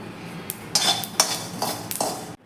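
Sesame seeds dry roasting in a pan, heard as several sharp metallic clinks and scrapes of a utensil against the pan in an irregular rhythm, close and fairly quiet, with no talk.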